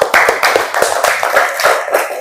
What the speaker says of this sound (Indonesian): tepuk tangan untuk Alisa dan Najwa